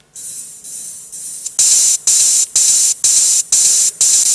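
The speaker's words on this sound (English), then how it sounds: "the open hat here, what you'll see is I've got a couple of hits, consistent pattern again" A bright, hissy electronic open hi-hat repeats in a steady rhythm, softer hits first, then louder, longer strikes evenly spaced about half a second apart.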